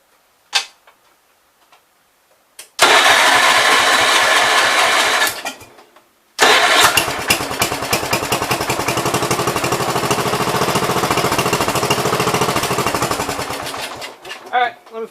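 A 1970 Gravely 408 walk-behind tractor engine cranks, catches briefly, dies, then restarts and runs with a loud, rapid single-cylinder chatter close by for several seconds before cutting off.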